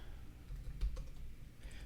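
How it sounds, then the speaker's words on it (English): Computer keyboard typing at a programmer's desk, a faint soft patter of key clicks against low background hum, no talking. "My keyboard is going, can you tell?"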